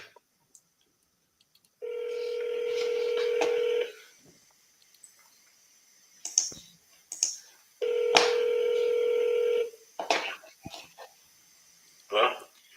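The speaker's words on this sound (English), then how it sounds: "It is dialing." A phone call rings out over a speaker, two long electronic ringback tones a few seconds apart, with brief voices and clicks in the gaps between them.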